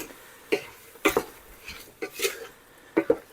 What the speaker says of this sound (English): Mix it all up together.